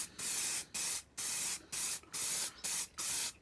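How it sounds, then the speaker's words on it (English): An aerosol can of primer sprays Harrier model kit parts in a series of seven short, close hissing bursts separated by brief pauses. "coats of primer, making sure I get all the parts of pieces on there"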